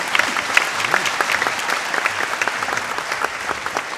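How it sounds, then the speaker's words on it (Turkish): An audience at a music performance claps steadily, a dense patter of applause that holds at an even level throughout. "Ben onun için kocaman bir alkış istiyorum."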